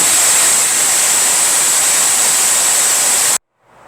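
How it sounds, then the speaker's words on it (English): An air compressor's automatic drain blasts out a loud, steady rush of hissing air in a workshop with a Clausing lathe, then cuts off abruptly, leaving near silence. "That was the automatic drain on my air compressor."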